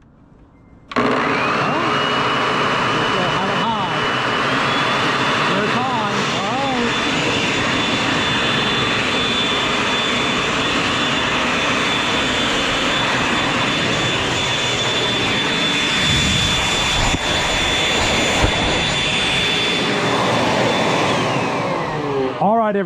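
A Toro 850 electric leaf blower starts suddenly and runs at a steady, loud, high-pitched whine for about twenty seconds, then winds down at the end; the motor tone holds nearly constant throughout.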